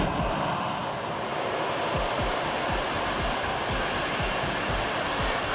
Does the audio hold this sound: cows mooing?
no